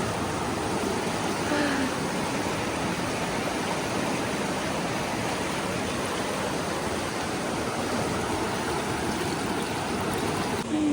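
Steady rushing stream water flows close by while feet soak in it along the Pacific Crest Trail, a continuous broadband wash that fills the whole stretch without pause.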